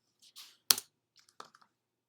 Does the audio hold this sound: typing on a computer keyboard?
yes